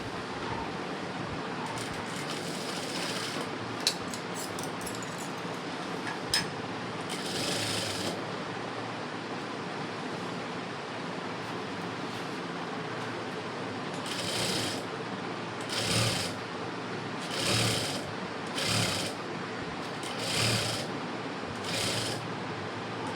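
Sewing machine stitching an embroidered blouse in short whirring bursts that repeat at intervals of a second or two, with a steady background hum beneath.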